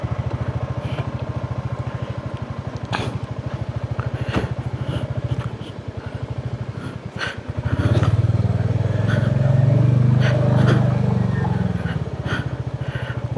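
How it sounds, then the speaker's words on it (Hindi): A traffic jam on a road in Northeast India, held up behind a landslide, fills the air with the low, throbbing hum of idling engines. Scattered clicks and knocks sit over the steady drone, which thickens briefly as a nearby vehicle revs. "और फिर ट्रैफिक जाम लग गया है।"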